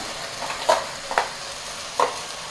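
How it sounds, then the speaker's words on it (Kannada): Avarekalu (field beans) and a ground spice mixture fry in a pan, a steady close sizzle punctuated by three distinct scraping stirs of a spatula. "ಒಂದು ನಿಮಿಷ ಸುಮ್ಮನೆ ಫ್ರೈ ಮಾಡಿದ್ರೆ ಸಾಕಷ್ಟೇ"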